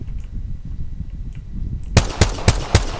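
A video game weapon fires four rapid, sharp gunshots in a quick, slightly uneven burst, loud and close after a quieter stretch of game background sound.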